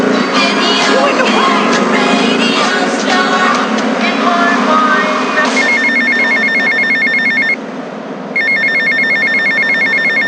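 A payphone rings in GTA Vice City, repeating electronic ring bursts that start after a stretch of busy game noise, pause for under a second, then resume loud and close.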